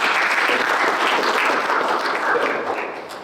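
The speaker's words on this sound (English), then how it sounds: "Okay, give Milad a round of applause." A room audience breaks into applause, many hands clapping in a dense steady patter that fades slightly toward the end.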